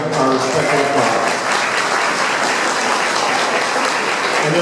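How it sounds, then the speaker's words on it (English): Audience applause at a Global Peace Foundation event in Fredericksburg for Nepal earthquake victims, a loud sustained round of clapping that carries through the whole stretch, with some speech-like tones early on. "May we give him one more round of our respectful applause."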